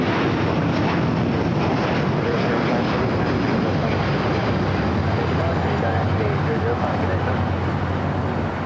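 A heavy jet roars down runway 25 right at Los Angeles International on its takeoff roll, a loud, steady, broadband engine rumble filling the whole stretch without letup.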